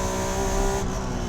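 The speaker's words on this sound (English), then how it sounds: "Hearing that V6 transition in the VTEC, very nice" Engine note from a 1991 Acura NSX V6 under way through the VTEC changeover: a steady, loud mechanical drone with a sustained pitched tone that cuts off sharply partway through, leaving a lower, rougher hum.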